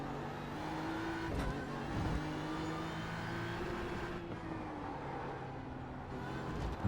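A BMW M4 GT3 race car in iRacing laps Fuji's Grand Prix circuit, its engine droning steadily with rising and falling revs through gear changes, heard from the cockpit at moderate level.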